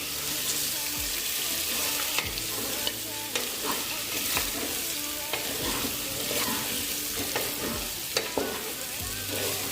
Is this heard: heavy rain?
no